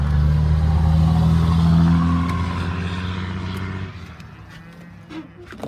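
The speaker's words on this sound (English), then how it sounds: "Him and his diesel rig." A neighbor's diesel truck driving up on a farm, its loud low engine rumble holding steady at first and then fading as it pulls away, with a voice faintly in the background.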